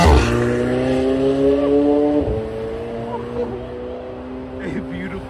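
A McLaren 720S with a 3.8-litre twin-turbo V8 accelerates hard close by, a loud rising engine roar with a gear change partway through and quieter pops as it pulls away.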